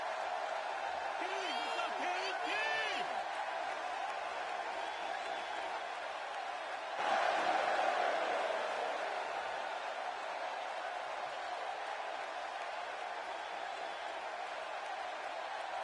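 Crowd noise in WWE 2K16, a steady distant arena roar of a capacity audience with a swell of cheering partway through, under a voice talking.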